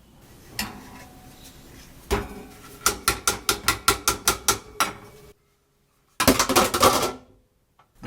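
A small tool scrapes dried royal icing decorations off a surface, making a quick run of about ten crisp, evenly spaced clicks and scrapes, then a short dense scraping burst after a brief silence, close and with no talking.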